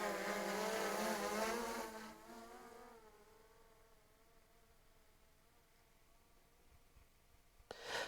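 A DJI Mavic Air 2 drone flying under manual control gives a steady high-pitched insect-like buzz whose pitch sweeps down as it climbs and reverses, loud at first and then fading to a fainter whine, with a brief sharp noise near the end.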